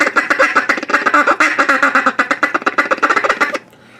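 A Beaver Creek Hen House double reed wooden duck call is blown in a rapid run of raspy quacking chatter, about two dozen loud close notes in quick rhythm before falling silent.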